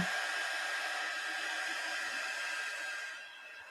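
A hair dryer drying a painted craft piece for an Alice in Wonderland inspired hare blows with a steady, loud, broadband roar that lasts nearly four seconds and drops slightly in level at the end.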